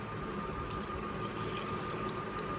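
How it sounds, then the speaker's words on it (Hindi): Milk pours steadily into a bowl as a continuous, even liquid rush with no breaks, close and moderately quiet. "बाउल में हम डालेंगे अपना मिल्क,"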